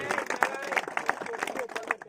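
Applause from an audience at a village cricket tournament prize ceremony, honouring the runner-up captain: a fairly faint, dense patter of many hands clapping, with crowd voices mixed in.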